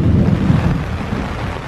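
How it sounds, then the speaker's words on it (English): A deep, loud rumble of thunder from a storm on the Appalachian Trail in Georgia rolls through, heavy in the low end, with a rainy hiss beneath. "Storm's coming."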